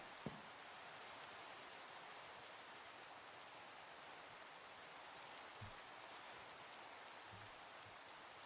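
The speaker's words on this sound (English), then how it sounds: "I hate the rain because I can't tell when it's getting dark." Steady rain falling in a Minecraft game world, a continuous even hiss of drops at moderate level with a few soft low thuds, no voices.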